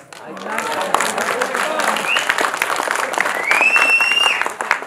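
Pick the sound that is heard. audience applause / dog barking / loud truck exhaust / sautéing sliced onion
audience applause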